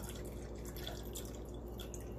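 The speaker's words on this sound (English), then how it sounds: "So we're gonna strain that." Lye solution for homemade soap trickles and drips through a strainer, a close, quiet, continuous watery spatter with no talking.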